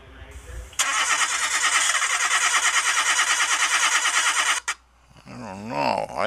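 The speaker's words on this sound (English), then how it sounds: "My car doesn't seem to want to start." A car engine cranks repeatedly for about four seconds with a fast pulsing starter whir but fails to catch, then cuts off; a voice speaks right after, close and loud.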